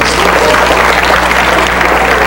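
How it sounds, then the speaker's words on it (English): A high school grad night hypnotist show audience applauding steadily, dense continuous clapping filling the room without a break. "Let's give them a nice round of applause."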